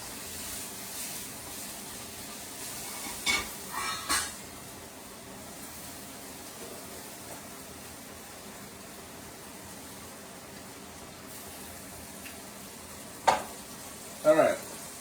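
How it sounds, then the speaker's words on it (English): Sausage frying in olive oil in a pan gives a steady, soft sizzle throughout, with a few louder pops and clatters of stirring or utensils near the start and again toward the end. "I'm just cooking the sausage"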